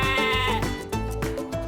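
A Batur sheep bleats loudly and close by, with a drawn-out wavering call followed by a second shorter bleat.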